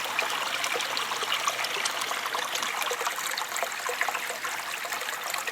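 Water bubbling and splashing vigorously through a homemade venturi into a two-inch drain system fed by a pump in a perforated bucket, a steady close gurgling rush with no talking.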